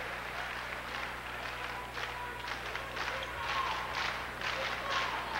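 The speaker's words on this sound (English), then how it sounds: "Turner, who gets a nice round of applause from the Hoosier fans" Indiana Hoosier fans applaud Rob Turner as he checks out of a 1999 college basketball game against Wisconsin, a moderate arena clapping layered over a steady crowd hum, with a commentator's voice running beneath.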